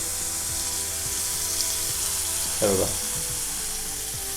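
Oysters are fried in a pan with a steady, moderate sizzle, plus a brief louder burst of spatter as more pieces go into the hot oil.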